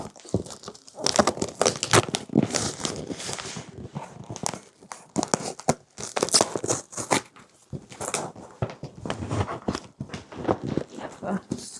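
Rapid crinkling and tearing open of food packaging, close and busy with rustling bursts and short pauses, continuing for several seconds.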